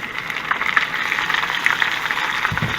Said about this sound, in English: while this shrimp is cooking, because it cooks quick